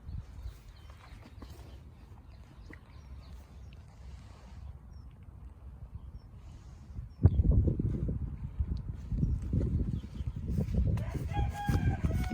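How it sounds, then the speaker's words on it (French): A rooster crows among his hens outdoors: a quiet stretch, then a loud, close burst of crowing and clucking that fills the second half, with no voices. "Voilà le coq"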